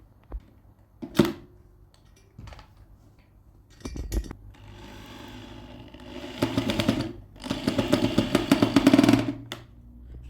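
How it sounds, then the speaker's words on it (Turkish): Screws are driven into metal cabinet legs, with a couple of sharp knocks and clicks followed by two long bursts of an electric drill whirring loudly nearby, no talking. "her vidada önce vidayı sabitliyoruz. Daha sonra matkapla uğraşıyoruz."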